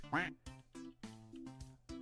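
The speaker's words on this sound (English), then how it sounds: "Exclamation point quack, put a duck in the pond" Cartoonish duck quack sound effect, a string of short nasal quacks in quick succession with brief gaps, fairly close and clear.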